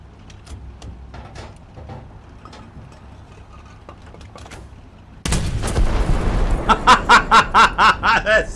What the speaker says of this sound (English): Let's see what it looks like from just directly behind as you fire straight ahead.